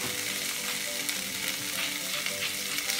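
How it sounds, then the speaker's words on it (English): Spring onions fry in hot olive oil with a steady, close, dense sizzle that holds at an even level throughout, with no voices over it. "heat up a little bit olive oil again, and we're gonna add our spring onions"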